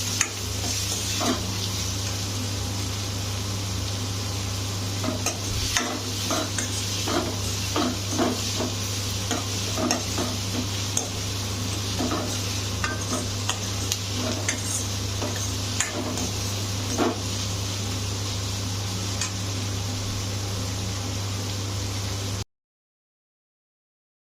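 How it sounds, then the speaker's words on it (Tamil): Onions and tomatoes sautéing in a pan for a curry, a steady close sizzle with frequent scraping and tapping from stirring, continuous throughout with a low hum underneath. "வெங்காயம் தக்காளி நல்லா வதங்கிருச்சு"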